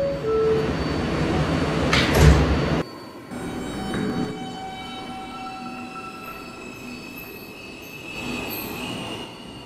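Roblox video game subway shuttle train on a crosstown line: a loud door chime and sliding doors closing, then the train pulling away with a steady rumble, squealing wheels and rising motor whine.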